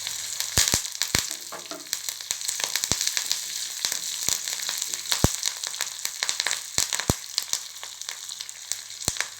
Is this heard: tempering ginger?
yes